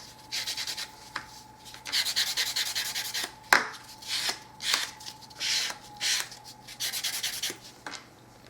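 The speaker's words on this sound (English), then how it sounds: "a quick buff along the free edge can remove that completely" A nail buffer rubs along the free edge of a natural fingernail in repeated short, raspy strokes, close and fairly loud, with a few sharper taps in between.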